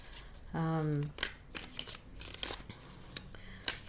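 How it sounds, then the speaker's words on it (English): Soft riffling and tapping of tarot cards being shuffled, brief crisp bursts scattered through the clip, with a short hummed or voiced tone near the start. "As I continue shuffling the cards"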